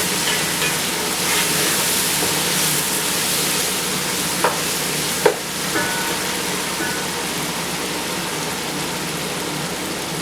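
Spices and dried plums (aloo bukhara) roasting in oil for a chickpea pulao, giving a loud, steady broadband sizzle close to the pan, with a couple of brief clicks partway through and no speech.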